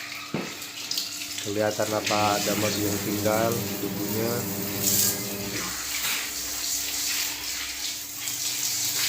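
Running water splashes and gushes steadily from a tap over the filter of a Chunghop K-1020E air cooler fan, while a person talks over the rinsing.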